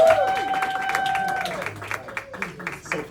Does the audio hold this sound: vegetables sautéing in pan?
no